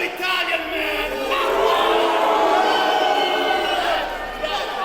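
A large crowd cheers and roars loudly and continuously at a professional wrestling event. The noise swells slightly through the middle and stays dense and steady throughout.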